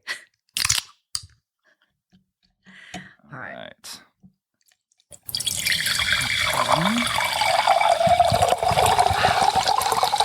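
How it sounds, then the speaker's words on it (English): Drinks poured over ice: after a few short spoken words and a pause, liquid splashes and gurgles continuously over clinking, crackling cubes, close and clear for the rest of the stretch. "let's make some ASMR magic for our listeners and pour our drinks. I even brought ice."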